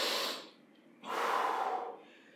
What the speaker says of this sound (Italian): Approfitto per respirare, non rimanere in apnea